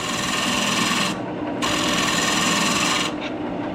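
A turning tool scrapes across a resin box spinning on a woodturning lathe, a continuous close, harsh rasping hiss with two short dips where the cut eases.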